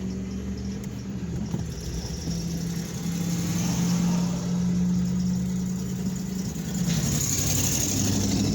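Steady car engine hum from inside a vehicle while driving, a low, even drone that swells slightly midway as it pulls, with road rumble underneath.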